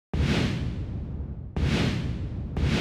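A spaceship boost effect in a Unity 2D space game gives sharp, loud whooshing bursts, each starting abruptly and fading out, two long blasts and the start of a third in quick succession.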